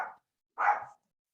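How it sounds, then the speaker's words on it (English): A dog gives two short barks during a lecture on Oldoinyo Lengai volcano's carbonatite eruptions, the second one fuller, with silence around them. "Sorry about my dog in the background."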